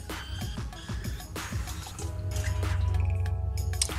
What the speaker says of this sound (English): I'm just going to add a small can of plain tomato sauce